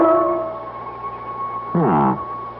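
A dog howls briefly in an old-time radio mystery drama, a single rising and falling wail of about half a second, heard over a steady background hum and tone.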